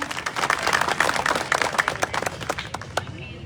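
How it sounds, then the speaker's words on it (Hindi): Audience at a live Haryanvi ragni performance breaking into loud, sustained clapping, a dense wash of hand claps that thins out toward the end, with a voice talking faintly beneath. "जोरदार तालियां।"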